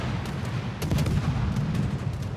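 Anti-aircraft guns fire in the World of Warships naval battle game as a dense, steady barrage of rapid bursts with sharp cracks over a constant low rumble, loud and continuous with no talk.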